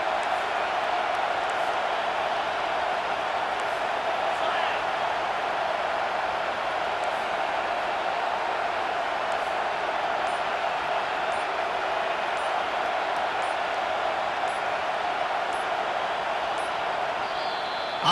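Stadium crowd in the College Football 25 video game, a steady loud roar of cheering and noise building behind the defense on a big third down, continuous and even throughout with no clear talk.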